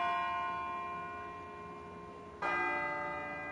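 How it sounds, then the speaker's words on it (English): A resonant bell tolls in the video game Persona 3 Portable, one sustained ringing tone decaying softly before a second strike rings out clearly. "Hey, it sounds like a bell"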